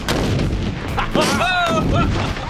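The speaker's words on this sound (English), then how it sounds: "The ANFO definitely packed a punch, and the shockwave is clear to see" A 10-pound ANFO charge detonates outdoors, a heavy broadband blast that stays loud across the whole stretch, with a whistling, chirping tone sweeping through the middle and a lingering rumbling roar.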